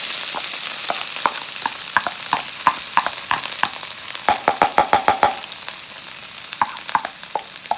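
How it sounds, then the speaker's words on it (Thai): Pounded chili, lemongrass and kaffir lime leaf paste fries in hot oil, a loud close sizzle broken by a quick run of sharp scraping stir strokes, with no talk. "เอา พริกตะไคร้ใบมะกรูดที่เราโขลกเรียบร้อยนะครับแกว่งลงไปขันนะครับ"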